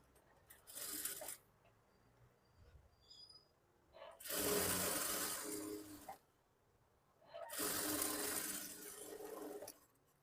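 A sewing machine stitches blouse lining in three separate runs, each a few seconds of steady whirring, fairly quiet and close, with pauses between.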